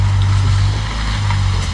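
The heat pump installers' vehicle pulling away, a low steady engine hum with some wind noise across a short stretch, fairly loud and without speech.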